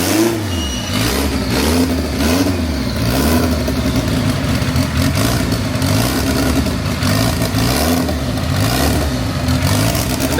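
A wide drift car's engine revs repeatedly in loud, pulsing surges as it pulls out of a driveway, heard up close with no talk.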